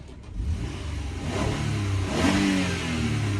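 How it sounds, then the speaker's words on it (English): A 2015 Toyota Venza V6 engine revs loudly and steadily up close, holding a strong rumbling roar that builds slightly toward the end, with no talking. "Let's just take a listen to this engine."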